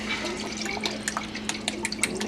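Worcestershire sauce pours into a pan of sautéed onions for beef stroganoff, giving a close, steady liquid trickle with small drips and sizzly spatter throughout.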